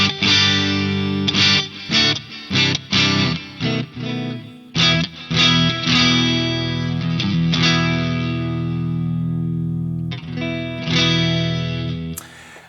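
Distorted electric guitar through a Friedman IR-X amp pedal plays chopped rhythmic chords, then sustained ringing notes, with a light wash of reverb and echo trailing each phrase.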